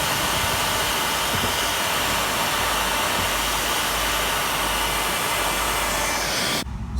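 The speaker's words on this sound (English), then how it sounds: "I'm just going to show you how well the heat gun will dry this out quickly" A heat gun blows loud and continuous at close range, drying out the wet structure of a caravan under repair, as a steady roaring whoosh that stops abruptly at the end.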